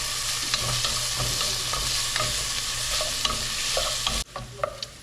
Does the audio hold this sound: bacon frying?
yes